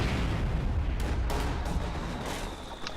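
Dense gunfire and booming artillery from a World War II strategy game battle roll continuously. Sharp reports stand out over a heavy, rumbling low-end barrage.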